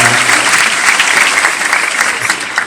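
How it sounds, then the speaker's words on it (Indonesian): An audience applauds teachers at a comedy show in Banda Aceh, a dense, steady burst of clapping that fills the short span at close range with no voices over it. "Tepuk tangan buat guru-guru kita."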